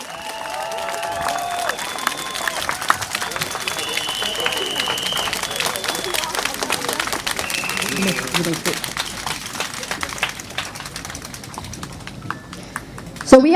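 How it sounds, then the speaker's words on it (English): A crowd at an outdoor election rally in Marymount, Singapore, applauds steadily with sustained clapping and some cheering that holds for many seconds, with a few whistle-like tones and faint talk mixed in. "One more round of applause for the candidates"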